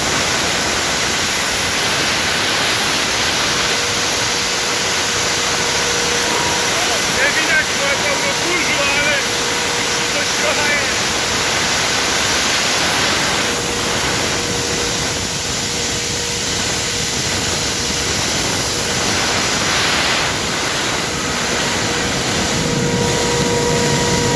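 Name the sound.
grain blower running at first start of season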